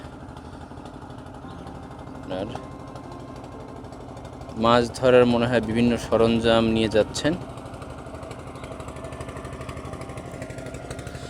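A steady low engine drone chugs throughout from a trawler's motor close by on the Dhaleshwari River, Keraniganj, Bangladesh, with someone talking over it partway through.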